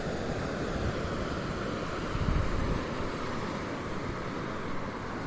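Surf at Jupiter Beach at night, a steady wash of breaking ocean waves with one slightly louder crash partway through, mixed with wind noise and no voices.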